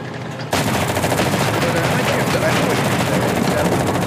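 Continuous automatic gunfire in the World War II shooter Enlisted starts abruptly after a short quiet moment and keeps rattling loudly and densely to the end.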